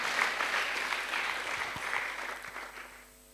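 A church congregation applauding at a sermon, a dense sustained clatter of many hands, moderately distant and soft, fading out near the end.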